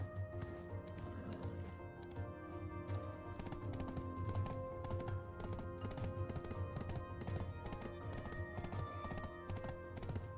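Rapid, rhythmic clip-clop of horse hooves in the video game Black Desert Online, steady and close, running continuously with no break.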